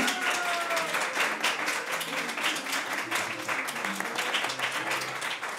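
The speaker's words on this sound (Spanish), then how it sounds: "Un aplauso, por favor." Audience applause for the musician Belafonte Sensacional at a live music session, dense steady clapping throughout with faint voices and tonal sounds mixed beneath.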